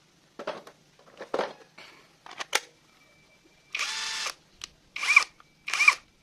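Budget 20 V cordless impact wrench loosening lug nuts on a Toyota Wigo, several short loud bursts of hammering whir, each stopping abruptly, with brief pauses between them.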